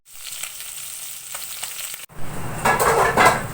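Galunggong fish frying in a pan, quiet at first and then a sudden louder burst of crackling, spattering sizzle after about two seconds, close up with no voices.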